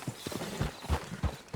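Horse hooves clip-clopping in the video game Red Dead Online, a steady walking rhythm of soft, fairly faint hoofbeats with no talk over them.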